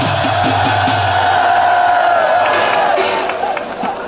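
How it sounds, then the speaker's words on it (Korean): A large outdoor rally crowd in Gwanghwamun Square roars with cheering and applause, loud and dense throughout with shouts rising above the din before tapering slightly near the end. "여러분 큰 박수 한번 해주시기 바랍니다"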